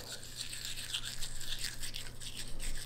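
Toothbrush scrubbing a dachshund's teeth, quick close bristle scratching in rapid up-and-down strokes with a soft hum underneath, no speech.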